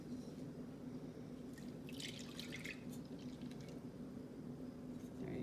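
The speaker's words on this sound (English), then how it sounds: "we'll pour the milk in." Milk being poured from a measuring cup into a mixing bowl, a soft, faint liquid trickle and splash over a steady low background hum, with no talk.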